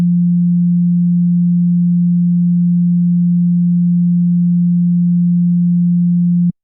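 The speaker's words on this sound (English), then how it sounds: "First up, we want a sine wave" A pure, steady sine wave tone from the Serum software synth holds a single low pitch, loud and unchanging for several seconds, then cuts off abruptly at the end.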